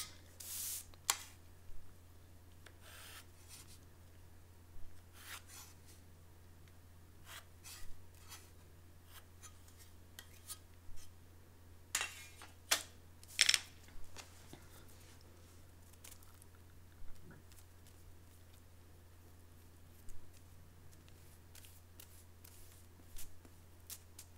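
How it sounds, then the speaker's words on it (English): Pattern-drafting rulers are flipped and slid across paper while drafting a short sleeve, giving faint scattered taps and brief rustles over a steady low hum in a quiet room. "Watch how I flip the rulers again to get the curve to do what I want it to do"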